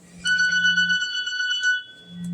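A phone alarm rings with a steady electronic tone, clear and fairly close, holding for about a second and a half over a faint low hum.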